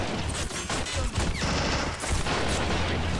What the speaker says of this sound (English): it appears that these two machine guns are just holding up the line here